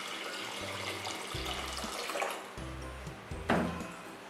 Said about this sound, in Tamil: அரிசியில் வந்து தண்ணியை ஊற்றி ஊற வச்சிடலாம்.